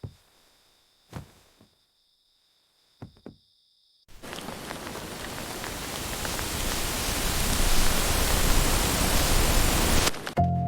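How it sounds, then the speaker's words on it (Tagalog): Heavy wind and rain arrive as a dense, broad roar that swells and grows louder over several seconds. A few faint knocks come first, in near silence. "Ang lakas ng hangin at ulan."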